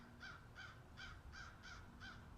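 A crow caws six times in a steady, evenly spaced series, clear and moderately close over a constant outdoor background hum, with no talking.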